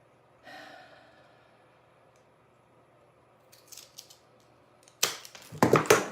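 A thin wood shim for a small craft Christmas tree is cut, with a soft rustle followed by several loud, close, crunching snips and cracks in a quick burst near the end.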